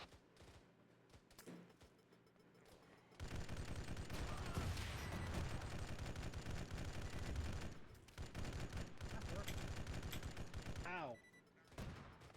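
Dense bursts of automatic gunfire and fusillades in a combat engagement against a vehicle, loud sustained volleys after a quieter opening, with a brief voice exclaiming amid the shooting and shots continuing near the end.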